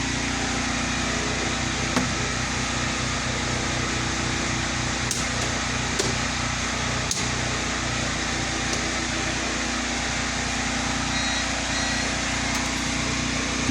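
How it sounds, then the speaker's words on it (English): Steady, continuous engine drone of a generator running as home backup power, a constant close mechanical hum with a few faint knocks and clicks, no talking. "All right, generator's running for just a moment here."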